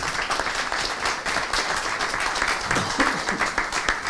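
Audience applause at a climate conference in Corsica, a steady wash of many hands clapping that fills the space, with some speech mixed in.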